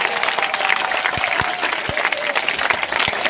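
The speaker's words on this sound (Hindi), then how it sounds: "एक बारी ताली बजा के इनका स्वागत कर दो" Crowd at an INLD party workers' gathering applauds to welcome Abhay Singh Chautala, a steady, dense wash of clapping with scattered sharper claps throughout, fairly loud and continuous with no talk over it.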